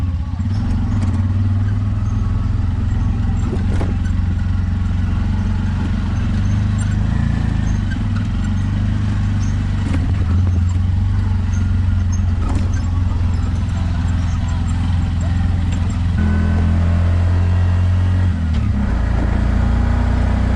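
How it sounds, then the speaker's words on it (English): A car drives to the airport in Aswan, Egypt: a steady engine hum and road rumble fill the cabin, with occasional clatter and passing traffic over the ride. "We're gonna get in a car and go to the airport."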